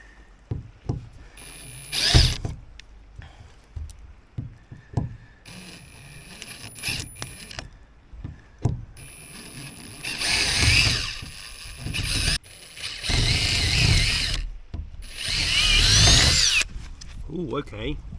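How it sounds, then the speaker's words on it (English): A power drill drives screws into a wooden Mirror dinghy skeg in several short whirring bursts, the later ones longer and louder, with clicks and handling knocks in the quieter gaps. "let's try anyway and drill these screws down, being really careful not to go too far."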